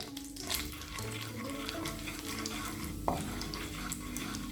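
Cumin seeds frying in melted butter and oil in a pan for capsicum pulao, a soft, steady sizzle with light stirring scrapes and faint clinks, fairly quiet and close.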